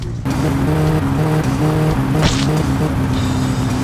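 A car is driven in a video game, the engine droning loud and steady with a brief tyre squeal partway through.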